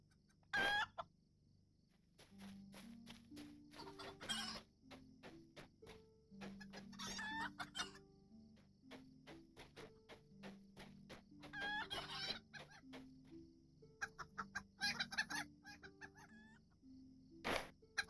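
Hens in the online game LOTRO at a festival: repeated close clucking and rooster-like calls in irregular bursts over a soft, steady game music bed, no talking.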